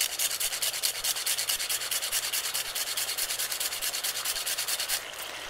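Fresh cinnamon stick grated by hand on a grater, a steady run of quick rhythmic rasping strokes, close and fairly loud with no talking, ending in a brief quieter pause.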